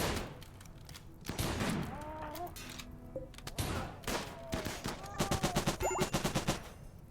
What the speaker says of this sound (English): Oh, and it looks like Senga ran right into the machine gun's firing arc